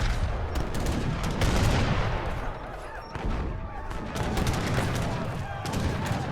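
Dense, continuous gunfire and cannon booms from a large Age of Empires 3 team battle with mortars, loud and busy throughout with only a brief lull in the middle.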